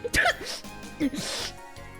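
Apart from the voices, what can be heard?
sneeze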